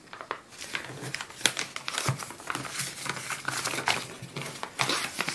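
Packaging from a fountain pen order being unwrapped, with steady close crinkling and crumpling of paper and plastic, broken by sharper tearing bursts, continuous for several seconds with no speech.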